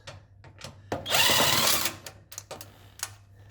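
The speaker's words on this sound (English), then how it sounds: "And then we remove these 4 bolts." Power tool removing bolts from a drum sander, whirring in one short, loud burst of under a second amid softer clicks and handling knocks before and after.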